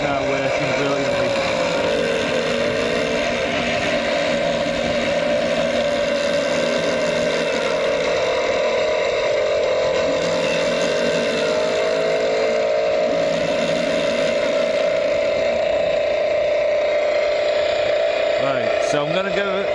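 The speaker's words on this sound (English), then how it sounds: "Give it a little bit of throttle." A homemade Welbike's small engine runs under light throttle in a steady, close, buzzing drone that continues without a break, with a voice heard over it at times.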